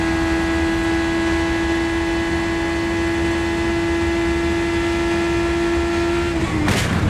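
Onboard an IndyCar during a crash, a steady engine tone drones with a sustained pitch, then abruptly breaks off near the end into a short harsh burst of noise as something on the car fails.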